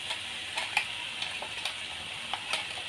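Spice paste and masala powder frying in a pan for a gokarakaya curry, a steady sizzling hiss with scattered crackles and stirring scrapes, close and alone with no talk.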